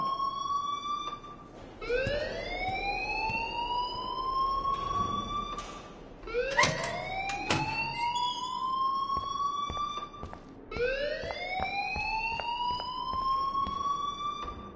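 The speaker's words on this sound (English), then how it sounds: "please turn off that alarm since that's your job" A school alarm in the video game Life is Strange wails in repeated rising, siren-like sweeps, three cycles with short breaks between them, loud and electronic with no talking.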